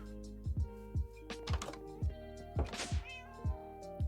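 Cats meowing in a Minecraft modpack world, several short game meows at steady intervals over a constant low hum, with a louder squeal near the middle.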